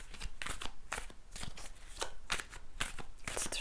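Tarot cards are shuffled by hand in a quick, irregular series of crisp riffling and slapping bursts, close up and fairly soft, with no talking.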